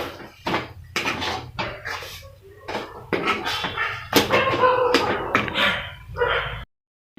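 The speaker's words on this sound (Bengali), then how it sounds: "ধনে পাতা দিয়ে খুব ভালো করে নাড়াচাড়া করে নেব।" A peas filling with coriander leaves is stirred in a wok, giving a series of irregular scraping, clattering strokes of a spoon against the pan, some louder than others, ending abruptly.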